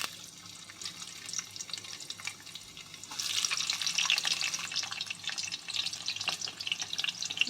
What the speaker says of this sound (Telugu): అదే ప్యాన్లోకి 3 టేబుల్ స్పూన్స్ వచ్చేసి ఆయిల్ అన్నది వేసుకుంటున్నాను.